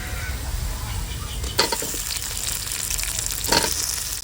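Onions sautéing in a pan give a continuous, close frying sizzle, and two louder bursts of hiss and clatter come as tomatoes are tipped in for a fish curry preparation.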